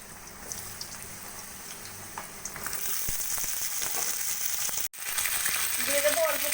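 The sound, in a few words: pointed gourd (potol) frying in hot oil in a wok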